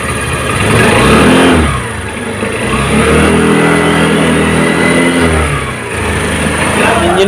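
A used scooter engine is revved up and down near the listener, the pitch rising in a couple of swells and easing back between them, loud and unaccompanied by talk.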